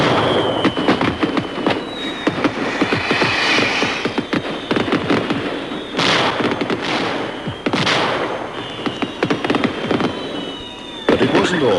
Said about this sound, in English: it wasn't all skyrockets and firecrackers